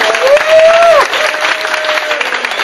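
Audience applause for Aaron Russo at a talk, dense steady clapping with some cheering from a crowd, loud and continuous, with a whistle-like tone and a voice briefly riding above it.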